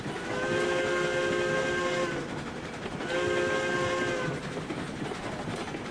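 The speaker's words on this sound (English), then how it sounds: "Nice bounce on the whistle." A steam locomotive whistle in the video game RailRoads Online sounds twice, each a long chord-like blast of about a second and a half, over a constant rumbling background.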